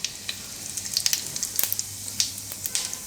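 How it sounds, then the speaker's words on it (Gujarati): Mustard seeds and cumin sizzle and pop in hot oil while tempering for a Gujarati kadhi chana, a steady hiss with scattered sharp crackles close by, no voices. "તો એમાં આપણે થોડીક રાઈ નાખશું"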